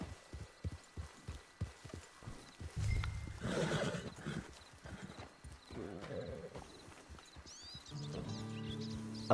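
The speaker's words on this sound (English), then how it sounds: "Get your horse." A horse in the open-world Western game Red Dead Redemption 2 clip-clops with steady, close hoof beats, then lets out a loud whinny and snorts, with faint ambient rustling and a brief game tone near the end.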